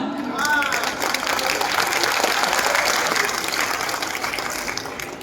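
An audience at a poetry recital during a festival breaks into applause, sustained crowd clapping that swells, then eases off slightly, with a brief voice at the start.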